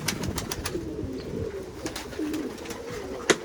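Pigeons coo in soft, repeated rounds over steady wind noise outdoors, with a few sharp knocks and one louder tap near the end.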